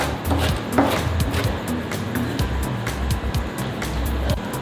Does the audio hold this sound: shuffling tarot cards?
no